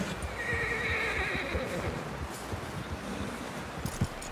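A horse whinnies in Red Dead Redemption 2, a long high neigh over steady hoof clatter and rustle, with a short sharp snort near the end.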